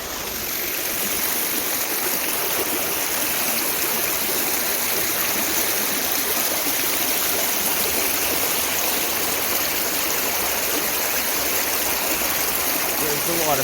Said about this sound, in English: I should walk through rivers more often.